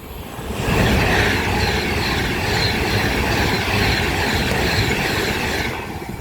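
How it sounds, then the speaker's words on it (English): An electric train passes through Cheddington station on the West Coast Main Line, a loud, steady rumble and hiss of wheels on rails that rises quickly and holds. "approaching now is the 9:47 London Northwestern Railway service from Milton Keynes Central to London Euston"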